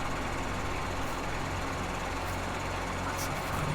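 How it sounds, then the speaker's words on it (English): A Case Magnum tractor engine runs in Farming Simulator 19, a steady, even drone with a low rumble that holds throughout and never changes pace. "This is a Case Magnum."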